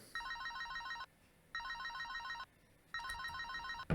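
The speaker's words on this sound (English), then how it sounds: "before remembering the office's phone ringing" An office telephone rings in three evenly spaced bursts of trilling bell tone, each about a second long with short silent gaps between them, clear and alone.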